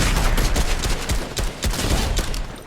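Rapid bursts of gunfire from a pump shotgun, assault rifle or SMG in Fortnite Reload, loud and dense with repeated sharp shots layered over each other.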